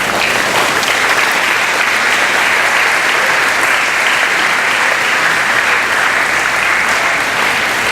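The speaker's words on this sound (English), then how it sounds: "give them a big round of applause" Dense, steady applause from an audience at a 2015 MCS high school graduation ceremony, loud and close, sustained for the whole stretch with no talking over it.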